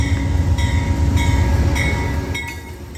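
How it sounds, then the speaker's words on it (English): A General Electric UM-12C locomotive rumbles close by, a loud steady diesel drone with low throbbing and faint periodic clicks from the rails, easing slightly toward the end. "modern workhorse locomotives like this UM-12C built by General Electric"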